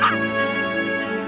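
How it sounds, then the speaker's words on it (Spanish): A puppy in a film trailer gives one loud, close, drawn-out bark that rings on like a yelp for over a second, with no talking. "Ladrido cachorro."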